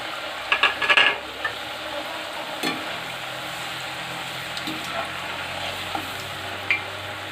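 Potato fries for KFC-style French fries bubble in hot oil, a constant crackling sizzle with a few sharper spits and clinks near the start, steady and close with no talking.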